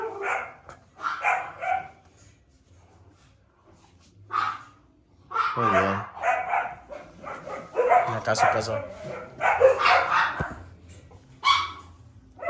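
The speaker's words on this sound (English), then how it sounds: "There's a lot of dogs." Dogs bark intermittently in Tlapa, short yaps scattered among frequent nearby conversation and voices that dominate most of the scene.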